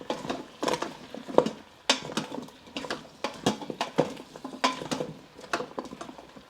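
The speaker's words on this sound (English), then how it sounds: "Just going to saute this for a couple of minutes." Carrots and potatoes are sautéed with chicken thighs in an Instant Pot, heard as close, irregular scraping and clattering of a utensil stirring against the metal pot, with quiet gaps between strokes.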